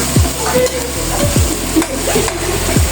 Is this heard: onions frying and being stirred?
yes